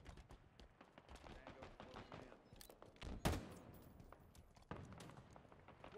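Gunfire in Halo Infinite multiplayer, with repeated sharp shots through the clip and one loud, prominent blast near the middle, mixed with game effects and voices.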